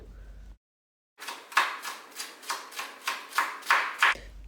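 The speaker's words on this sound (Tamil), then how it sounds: "ஒரே ஒரு மீடியம் சைஸ் ஆனியன் எடுத்திருக்கேன். அதை நல்லா ஃபைனாக சாப் பண்ணணும்." A medium-sized onion being chopped finely with a knife on a board, about ten crisp, evenly spaced cuts after a short silence, close and clear with no talking.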